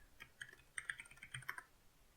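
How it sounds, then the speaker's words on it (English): Soft, quick key presses on a computer keyboard come in a short uneven burst, faint and close, with no voices. "Thought I was typing something."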